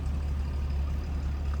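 Steady low, throbbing rumble of a 1965 Ford Mustang's inline-six engine idling close by, even and continuous with no other sounds.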